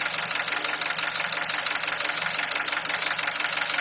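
A Nissan QG18DE engine knocks at idle during an oil pressure check: a loud, close, rapid metallic ticking rides over a steady idle drone throughout, with no speech.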